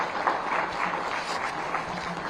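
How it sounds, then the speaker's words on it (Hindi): An audience at a Delhi civic-tech launch event claps in a steady, fairly faint wash of applause that lasts a couple of seconds, with no clear voices over it. "एक बार जोरदार तालियां होनी चाहिए भाई"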